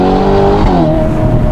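Novitec-tuned Ferrari Portofino M with a twin-turbocharged 4.0-litre V8 making 688 hp, its exhaust giving a loud, close, steady droning growl whose pitch drifts slightly, with no talking.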